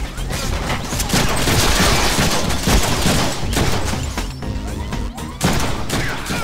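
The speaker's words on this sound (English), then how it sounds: "See, I set my gun to perforate. Bullets! I need more bullets!" Dense, continuous gunfire in a Deadpool video game, loud rapid shots and impacts layered into a constant roar with brief dips.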